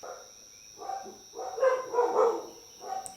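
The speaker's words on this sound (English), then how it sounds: "They need to stop barking." Dogs bark in a few muffled bursts some distance away, with a steady electrical hum underneath.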